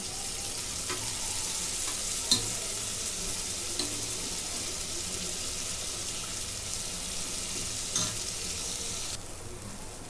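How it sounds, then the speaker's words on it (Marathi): Saoji mutton spice masala frying in oil, a steady crackling sizzle throughout with a few faint clinks of a utensil, no voices. "ह्या तेलावरती मसाला भाजला जातो"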